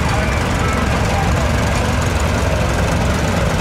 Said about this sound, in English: it's a darn nice tractor